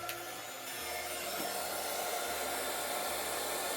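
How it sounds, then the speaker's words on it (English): A craft heat tool blows hot air in a steady, close, loud whoosh after being switched on, warming up before melting embossing powder on a card. "I have my heat tool, and just want to heat it up first before we melt the powder"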